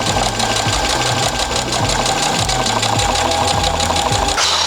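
A sewing machine runs fast and continuously while it stitches a fitted bustier dress, making a close, loud, even mechanical chatter with a steady rhythm that goes on throughout, alone and with no talk.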